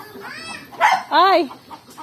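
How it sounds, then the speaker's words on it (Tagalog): Chickens cluck and crow in short bursts close by, with a few quieter farmyard noises in between. "May mga manok, ha?"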